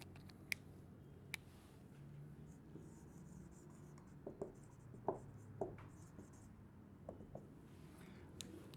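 A pen writing a physics definition by hand on paper, faint scratchy strokes and small taps scattered irregularly across the stretch, close but quiet, with a few sharper clicks of the pen.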